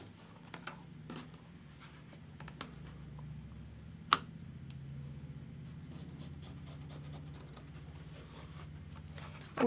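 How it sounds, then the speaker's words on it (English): A marker is drawn along fabric to mark a stitching line while piecing quilt flying geese blocks with a flying geese ruler. Soft, faint scratchy strokes continue steadily, with one sharp tap near the middle and no voices. "we're gonna draw a line just like we did before"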